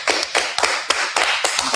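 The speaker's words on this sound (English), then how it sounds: "round of applause for that" Applause from an audience at a church gathering celebrating the Feast of the Dedication, with several uneven bursts of clapping and sharp slaps rising and falling close by, no voices over it.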